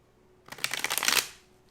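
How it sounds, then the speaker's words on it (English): Tarot deck being shuffled by hand, a quick flurry of crisp riffling card flicks lasting under a second, close and fairly quiet in a still room. "That's enough shuffles."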